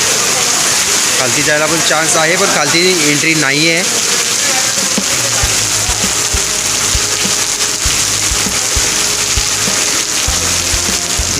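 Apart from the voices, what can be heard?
heavy monsoon rain near a waterfall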